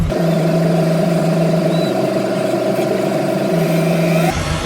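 A truck engine idles steadily and loud throughout, a constant low drone with a brief change near the end and no voices.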